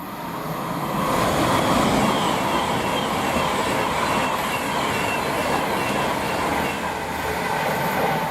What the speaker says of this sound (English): we have a service from Blackpool North to London Euston